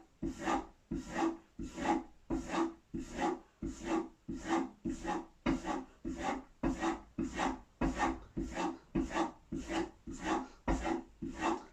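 Chisel bevel rubbed back and forth on a sharpening surface, a steady rasping scrape repeated in even close strokes, roughly one per second, with no voices.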